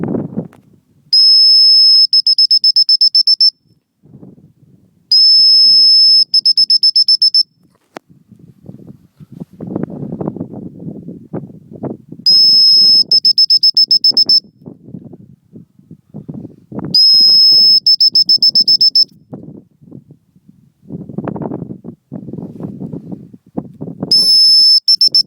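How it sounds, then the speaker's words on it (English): A dog-training recall whistle is blown outdoors on a sheep farm in five loud, long, steady blasts. Between blasts come quieter rustling, footsteps and wind noise. "So I'm going to put the whistle in now and get the response from the dogs."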